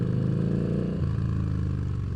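A Yamaha Bolt motorcycle engine cruises in first gear, a steady close low throbbing rumble with a faint shift in pitch partway through, heard on its own.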